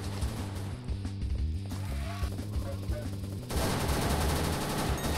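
A gun fires in the Roblox game Call Of Mini Zombies, with dense rapid bursts that build into continuous loud automatic fire over game music and effects.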